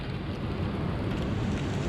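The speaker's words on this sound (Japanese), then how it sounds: "ものすごい土砂降りになってまいりました" Heavy downpour pounding down at a campfire site beside a river, a dense, loud, continuous roar of rain with no pauses.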